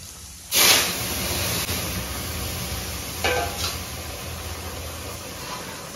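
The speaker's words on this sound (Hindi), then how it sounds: "तेल गर्म हो गया था हाँ। देखो कितना मस्त छोका पड़ा" A loud burst of sizzling as spices hit hot oil for an Indian tempering, settling into a steady hiss with a brief second flare partway through.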